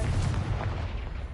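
A Confringo fire-blast spell explodes in Hogwarts Legacy, a dense low boom with rumbling debris that carries through the whole moment.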